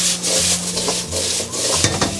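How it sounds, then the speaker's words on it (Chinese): Pumpkin is stir-fried with minced garlic in a little oil in a pan: a steady close sizzle with rough, rhythmic spatula scrapes and no talking. "接着我们再下入南瓜给它翻炒几下"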